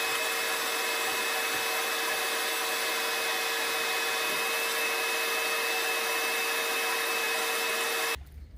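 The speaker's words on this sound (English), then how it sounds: "I'm gonna go over every square foot of this with the shop vac just to make sure I get all the debris picked" A shop vac runs loud and steady nearby while cleaning debris off a shed floor, a constant whining roar that cuts off abruptly near the end.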